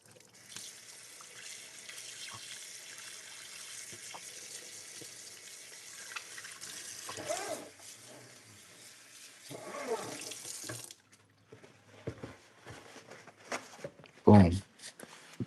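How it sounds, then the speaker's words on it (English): Water runs from a tap into a sink as yellow paint is washed off hands, a steady broadband splashing for about ten seconds, then stopping, with a brief louder clatter near the end. "Actually, let me wash this off my hands first. This yellow"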